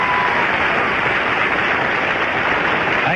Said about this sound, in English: Your applause for candidate number one.